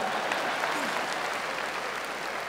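Audience applause at a speaking event, a steady dense wash of clapping from a crowd that holds evenly throughout the short stretch.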